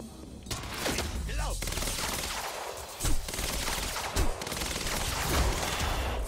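Sniper gunfire in the video game Quantum Break, with bursts of shots and mechanical clatter over a constant noisy game bed, sharper cracks standing out around 3 and 4 seconds, alongside talk.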